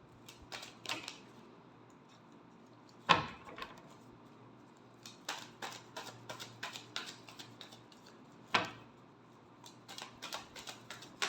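Tarot cards shuffled in a quiet room, giving soft crisp riffling bursts with a few sharper snaps that stand out, spread irregularly over about eleven seconds and heard alone.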